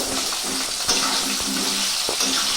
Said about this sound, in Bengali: আলুগুলোকে এইভাবে আমরা হালকা করে নাড়াচাড়া করে লাল লাল করে মোটামুটি ভেজে নেবো